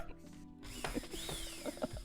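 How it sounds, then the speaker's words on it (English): A power drill runs with a ratcheting, mechanical whir, close and moderately quiet, with brief clicks and knocks from handling throughout. "Now the drill is always on"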